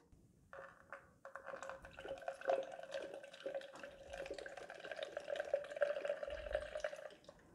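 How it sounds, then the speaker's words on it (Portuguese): Pinho Bril bactericidal pine disinfectant poured into a bowl, a 50 ml measure: a steady liquid trickle with dripping splashes running for several seconds at close range, moderately quiet, with no talk. "Eu vou pôr 50 ml dentro dessa bacia"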